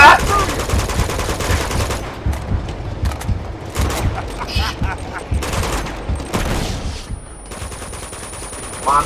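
Rapid bursts of gunfire in the Uncharted 2 video game, loud clustered volleys broken by short gaps, with a player's voice talking over parts of the shooting.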